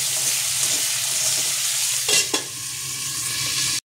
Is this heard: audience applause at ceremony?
no